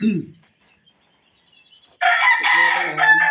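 A Kanawayon gamefowl rooster crows loudly and close by, one long harmonic call that starts after a short quiet stretch, with a brief low human voice just before it.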